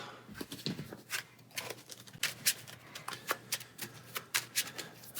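A deck of cards from the Marvel Champions card game is shuffled by hand close by. Soft riffles and taps come in quick, uneven bursts, alone without talk.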